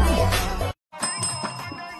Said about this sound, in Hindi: अरे वाह सर, घंटी तो बड़ी मस्त बज रही है।